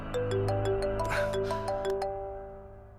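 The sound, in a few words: phone ringing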